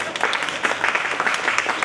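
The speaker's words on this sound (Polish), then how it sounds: "Pani Katarzyna Lenartowicz, brawa wielkie, należą się." Applause from the audience at a calendar premiere event in Gliwice, a steady patter of clapping hands running through the whole moment at moderate loudness, with voices mixed into it.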